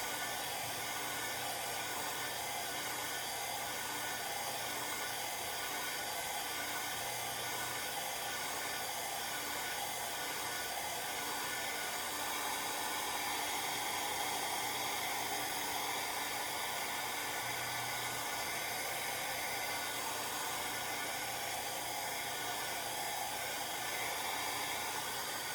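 A glow tumbler machine running steadily after its direction is switched, a continuous whirring hiss with a constant drone and no breaks.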